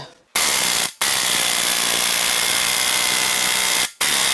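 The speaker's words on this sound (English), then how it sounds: "now it is time to get the crank pulley bolt loose" Ratchet wrench with a weighted socket breaking loose a very tight right-hand-thread crank pulley bolt on a 2014-2019 Jeep 3.0 EcoDiesel engine, producing a steady, loud mechanical rattle that runs for about three seconds between brief pauses.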